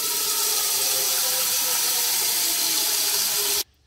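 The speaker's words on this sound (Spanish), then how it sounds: "Yo voy a utilizar esta olla y le voy a echar la mitad de agua." Water pours steadily into a cooking pot with a continuous, bright hissing rush that stops abruptly near the end.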